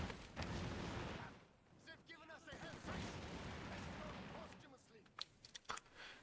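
Bursts of MG42 machine-gun fire and battle noise from a Company of Heroes 2 match play under a caster's steady commentary, with sharper shots popping out near the end.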